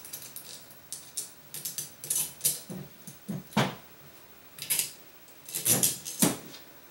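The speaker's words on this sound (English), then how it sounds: "On the other side, I'm going to put both screws in right now." Screws being driven in by hand during assembly of a DICE 3D printer, heard as a series of short clicking, ratcheting mechanical taps and scrapes in irregular bursts, close and fairly quiet, with no talking.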